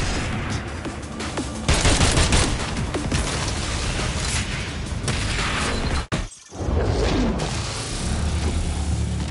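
Dense, continuous gunfire and shattering impacts from shotgun combat in the video game Agents of Mayhem, loud and chaotic, broken by one brief pause near the end.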